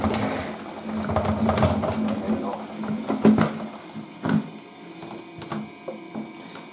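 A lightweight 1980s Tefal Spinmaster spin dryer with a plastic tub whirring and rattling mechanically while drying towels, with irregular knocks and clatters, while a person talks over it.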